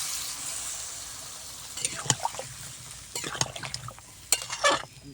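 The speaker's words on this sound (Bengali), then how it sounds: "বেগুন, মাছ, বড়ি দিয়ে পানিটা ঢেলে দিলাম" Water is poured into a curry of brinjal, small fish and lentil bori cooking in a pot, heard as irregular splashes and clinks over a faint background hiss, louder toward the end.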